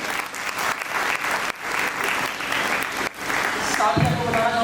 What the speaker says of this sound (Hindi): एक बार जोरदार तालियां बजाया सकते हैं।